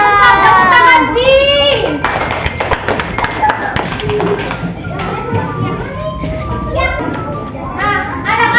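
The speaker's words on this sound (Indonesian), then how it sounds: "Oke, tepuk tangan" Children in a primary school class clap in a short burst of quick taps, mixed with lively kid voices and a teacher speaking over them; the clapping is close and fairly loud, then scattered thumps follow.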